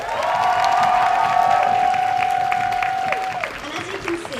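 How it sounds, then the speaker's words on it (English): Loud audience applause and cheering at a junior pageant competition, dense clapping with a long sustained high whoop riding over it before the crowd noise eases off. "please give them a massive round of applause."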